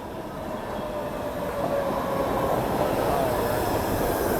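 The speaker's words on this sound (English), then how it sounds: "Oh, and here comes the train." A train rumbles steadily into a station, its noise building gradually with a faint metallic squeal of wheels riding over the low roar.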